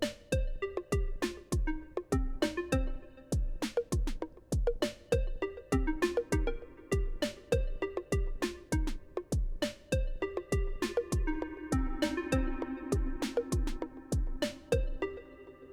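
An Elektron Model:Samples pattern plays with every sample at once: punchy drum hits in a steady, driving beat under layered, harmonized melodic tones, loud and continuous throughout.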